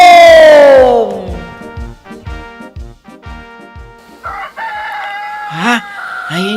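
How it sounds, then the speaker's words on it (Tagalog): A loud rooster crows up close, its call trailing off, followed by a series of short rhythmic clucks and a few higher squawks. "Ayun yung manok, Panjing."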